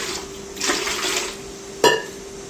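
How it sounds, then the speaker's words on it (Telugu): Two glasses of water poured into an aluminium idli steamer vessel give a short splashing gush, then a sharp metallic knock, over a steady low kitchen hum. "ఇప్పుడు మనం 2 గ్లాసుల నీళ్ళు ఇడ్లీ పాత్రలో పోసుకొని"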